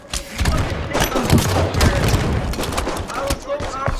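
Rapid gunfire and booming blasts from a Halo 5 Slayer multiplayer match, dense and continuous bursts with heavy thuds throughout, mixed with game voice lines.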